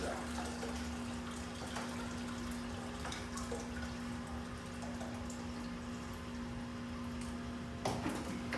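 Water draining out of a Bunn Ultra 2 hopper during cleaning, a steady faint trickle and gurgle under a constant low hum, with a few soft clunks and no talk.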